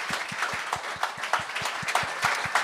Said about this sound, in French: Bon, on peut l'applaudir.